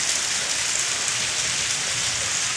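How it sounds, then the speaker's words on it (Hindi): Rain falling in a village in steady, even sheets, a continuous hiss of drops on surfaces with no breaks and no voices. "देख लीजिए बारिश हो रही है और बारिश में बहुत अच्छा लगता है"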